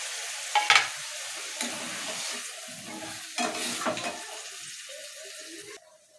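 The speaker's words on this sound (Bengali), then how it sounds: "আমি এখানে যে সর্ষে বাটা রয়েছিল সেটা আমি জল দিয়ে ভালো করে গুলিয়ে নিয়ে দিয়ে দিচ্ছি।" Mustard paste thinned with water hits a hot cooking pan, giving a brief splashy sizzle and stirring scrapes, then a quieter simmering hiss that fades out; no talking.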